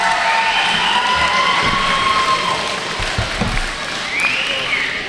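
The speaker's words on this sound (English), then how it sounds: "Crowd giving it up for Alpha X Kaiju here." A crowd at a tag-team wrestling match cheers and applauds steadily, a loud continuous wash of clapping and shouting with some higher yells rising near the end.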